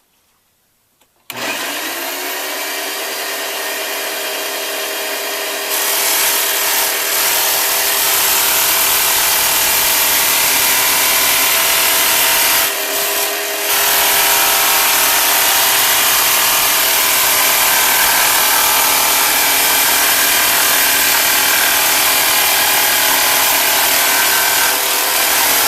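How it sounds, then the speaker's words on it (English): A Rockwell Blade Runner tabletop saw cutting a 3/8 inch strip from aluminum flashing, a loud steady motor whine with continuous harsh cutting noise that starts abruptly and runs nearly unbroken, briefly dipping midway. "we're going to cut a 3/8 inch strip from this aluminum flashing with my Rockwell blade runner."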